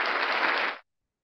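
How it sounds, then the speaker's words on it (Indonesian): Church congregation applauding, a brief burst of dense, even clapping from many hands that cuts off abruptly into silence. "Berikan tepuk tangan dan kemuliaan untuk Tuhan."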